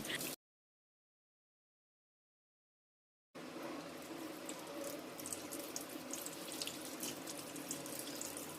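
Chicken feet and heads rinsed under a running kitchen tap, a steady close splash of water filling and washing in a sink after a brief gap of silence.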